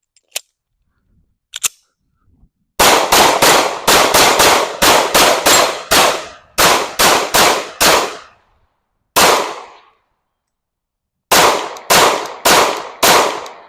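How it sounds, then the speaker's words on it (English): Glock 19 and Glock 26 pistols fire at targets, loud and close: two isolated shots open, then rapid strings of shots come in several bursts separated by short pauses. "I'm gonna load these up, and then I'm gonna keep shooting these two firearms."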